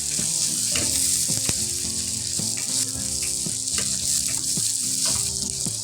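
Diced potatoes fry in mustard oil in a pan, a loud, continuous close sizzle with occasional stirring knocks and scrapes, heard on its own with no speech.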